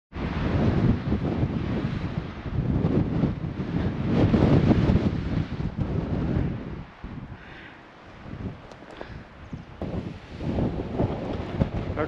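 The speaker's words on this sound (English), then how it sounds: "If the wind wasn't quite so insane." Strong wind roars and buffets the microphone outdoors on a hillside trail near Carlsbad Caverns, with gusts surging and easing over several seconds.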